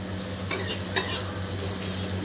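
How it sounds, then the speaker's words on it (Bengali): Fish frying in a pan in a home kitchen gives a steady, close sizzle, with a couple of brief stirring scrapes and a low electrical hum underneath. "এদিকে মাছ ভাজাভাজি চলছে, এই যে ভাজাভুজি।"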